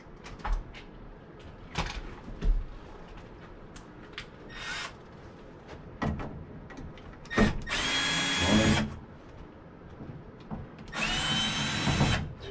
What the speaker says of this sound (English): Drill driver. Yeah. This is the fastest way over here.